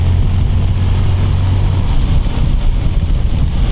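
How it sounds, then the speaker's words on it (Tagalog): Strong wind roars over a Zontes 400G motorcycle as it is ridden through typhoon weather, a steady, loud low rumble of buffeting air that fills the whole moment without any voices. "Ang lakas sobrang ng hangin"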